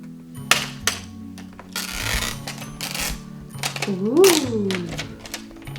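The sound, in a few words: unzipping a toy suitcase zipper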